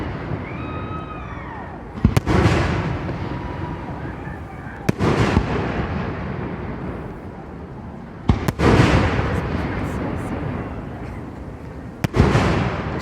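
Memorial Day fireworks burst over Lake Lanier at Margaritaville in Georgia: four loud, sharp booms spaced a few seconds apart, each trailing off into crackling rumble, with a hiss of distant crowd noise and voices between them.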